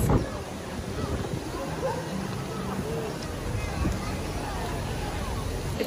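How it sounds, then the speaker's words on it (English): Steady wind noise rumbles across the microphone outdoors by a pool in Hawaii, alongside a low murmur of voices, constant throughout. "It's very windy today"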